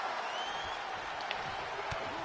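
Crowd noise at a WWE 2K wrestling match, a steady broadband roar of cheering from a large arena audience, loud and continuous with a few brief sharper accents.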